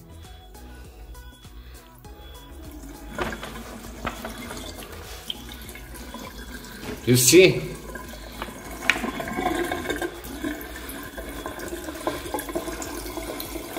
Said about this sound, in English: The water will not stick to the surface.